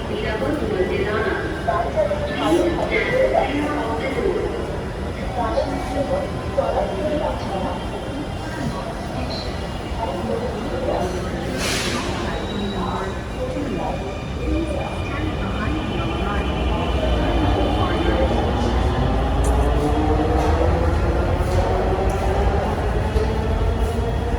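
Steady low rumble of a Dhaka metro train in motion, continuous throughout, with murmuring passenger voices and occasional higher squeals over the drone.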